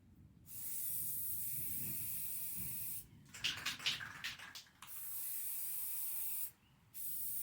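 Aerosol spray hissing in several bursts: a long steady spray, then choppy short squirts, another sustained hiss, a brief pause, and spraying resumes.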